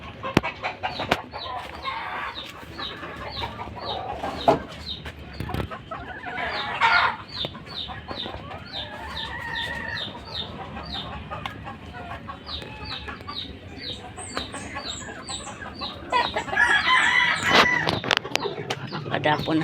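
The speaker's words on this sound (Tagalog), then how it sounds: "Ito mga inahin." Gamecocks and hens cluck and call repeatedly in short bursts nearby, with a rooster-like crow briefly standing out and a voice occasionally speaking.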